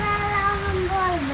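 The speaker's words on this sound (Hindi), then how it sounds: "तेज़ बारिश हो रही है।" Heavy rain pours down steadily during a monsoon downpour, a dense and constant wash of noise, with a faint tonal voice or whine drifting above it.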